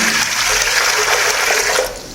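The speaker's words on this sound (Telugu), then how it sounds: "ఒక లీటర్ వాటర్ అయితే తీసుకుంటున్నాము" One litre of water pours steadily into a jug in a continuous gushing stream, close by, tapering slightly at the end as the flow eases.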